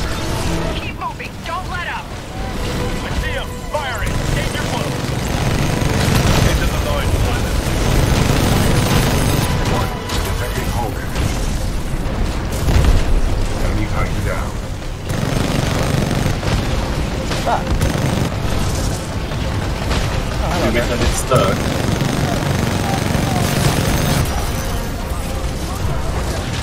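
Heavy Titan weapons firing and explosions in the Titanfall 2 campaign, booming blasts and rattling mechanical gunfire in a loud continuous barrage, with voices calling out over the combat.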